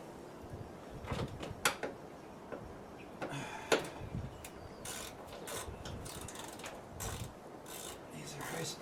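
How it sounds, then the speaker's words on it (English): A socket wrench ratchets on front-end bolts of a 2008 Toyota Corolla during hood hinge repair, making scattered bursts of dry mechanical clicks and ticks with brief pauses between them. Someone talks quietly in between. "It is on me socket wrench."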